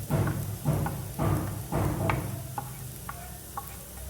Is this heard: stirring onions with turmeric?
yes